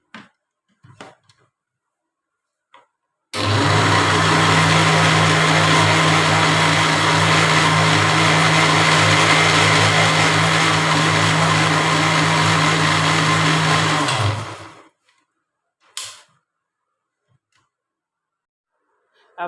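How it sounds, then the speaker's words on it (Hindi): Electric mixer beating three eggs, sugar and oil into cake rusk batter: a steady motor whir with a low hum runs unbroken for about eleven seconds, then stops, followed by a couple of faint clinks. "अब इसको भी बीट कर लेंगे।"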